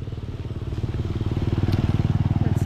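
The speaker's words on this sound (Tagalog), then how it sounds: "Kunin mo na yung motor." A motorcycle engine idles close by with a steady, throbbing putter that grows slightly louder, with faint voices in the background.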